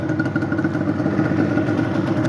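A 2001 Yamaha Banshee ATV engine runs loud and close, a steady rapid two-stroke idle throbbing evenly with no talk over it.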